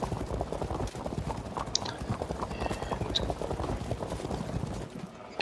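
Hoofbeats of horses in the historical strategy video game Field of Glory II, a steady dense clip-clop of many hooves moving together, with a spoken voice running over it.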